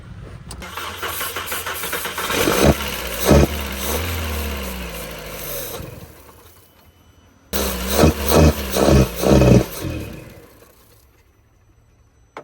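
Skoda VRS with a dead engine cranking repeatedly without catching, a long steady grinding crank with starter whine followed after a brief pause by a second burst of rhythmic, pulsing cranking, loud and close.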